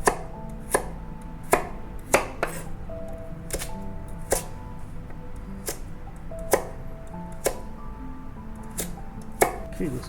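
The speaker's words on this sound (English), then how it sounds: "Just cut into the small dice cut." Knife dicing a peeled carrot into small cubes on a cutting board in a home kitchen, a run of sharp, irregularly spaced chops close by, with no talking.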